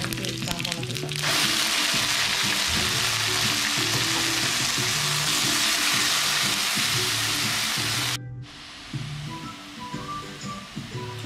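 Ground coconut paste frying in a pan for Kerala-style ash gourd moru curry gives a loud, steady sizzle with stirring scrapes, and the sizzle eases and becomes patchier toward the end.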